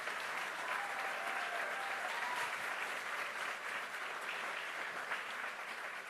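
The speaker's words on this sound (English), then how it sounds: "I think that deserves a round of applause." Audience at an education town hall with the mayor breaks into sustained applause, a thick even wash of clapping from many people that stays steady throughout, heard from a moderate distance.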